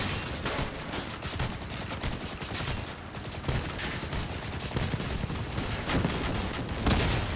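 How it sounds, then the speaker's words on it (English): Constant gunfire and explosions from vehicle combat in the mobile video game Crossout make a dense, unbroken barrage of rapid shots and booms throughout, loud and with no talking. "Who's shooting me?"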